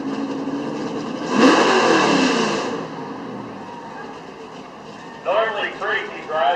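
A big block street pickup truck roars under load at a truck pull, its engine surging loudly in the middle of the clip then settling to a steadier drone, with voices speaking near the end.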